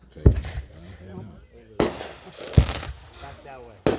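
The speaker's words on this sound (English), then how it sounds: "It's from the fireworks." Fireworks at a backyard show, with sharp booms bursting in separately at intervals and a crackling tail after each; people talk quietly in between.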